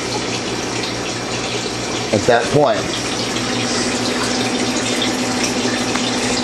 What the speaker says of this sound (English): I'm refilling water pond 1, and I'm draining pond 2.